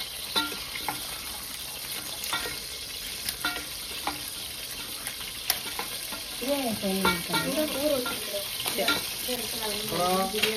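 Cinnamon and cloves fry in oil in a pan for biryani, giving a steady close sizzle with occasional stirring scrapes and clinks, plus some faint warbling tones toward the end.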